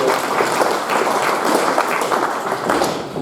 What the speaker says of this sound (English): Folks, a big round of applause for Katie, you've been great.